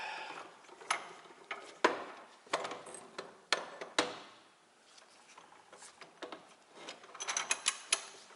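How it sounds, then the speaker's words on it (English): A steel bench vise is being opened in a garage during Jeep Cherokee XJ front axle U-joint work, giving a series of close ratcheting clicks and metallic ticks in uneven bursts with brief quiet gaps. "Open the vise up."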